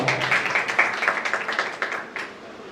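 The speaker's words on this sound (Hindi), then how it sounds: "ताली रहेगी" An audience at a religious discourse applauds in a brisk run of claps, steady at first and then thinning out toward the end.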